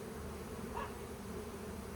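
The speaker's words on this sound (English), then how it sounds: "those are the male bees" Male bees buzz at a beehive, a soft, continuous drone with a brief, slightly louder swell partway through, faint against quiet background noise.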